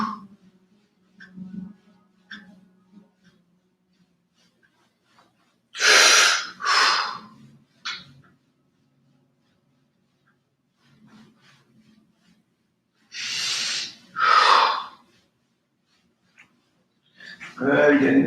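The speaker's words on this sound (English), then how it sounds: "No breathing, and breathing in and out." Deep breaths in and out during a guided breathing exercise, two clear pairs of loud inhale-exhale rushes standing alone between quiet gaps, with faint soft sounds in between.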